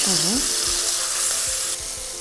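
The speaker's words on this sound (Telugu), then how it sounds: "అల్లం వెల్లుల్లి పేస్ట్ వేసుకోవాలి. ఇది కూడా కొంచెం వేగాలి" Ginger garlic paste frying in a hot pan with oil while cooking soya keema fried rice, giving a steady close sizzle with a few light stirring scrapes.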